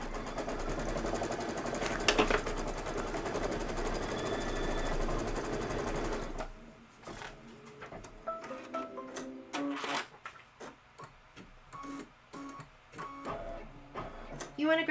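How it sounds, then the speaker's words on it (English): Sewing machine stitching a tack-down line on Advent base fabric for a Kimberbell Cup of Cheer project, running steadily and loud for about six seconds, then giving way to quieter clicks and short bursts. "stitch the Advent base tack down line"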